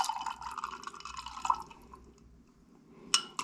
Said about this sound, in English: Okay, then add the Coke.